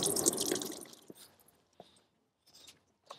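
Coolant draining from a car radiator into a drip tray during a thermostat replacement, an initial splashing trickle that fades into a few scattered drips.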